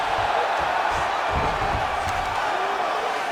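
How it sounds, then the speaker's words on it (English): Loud video-game arena crowd in UFC 5 cheering in a steady, roaring wash as fighters get back to their feet after a ground scramble, with a few thumps and shouts rising out of the din. "big pop from the crowd as they get back to their feet"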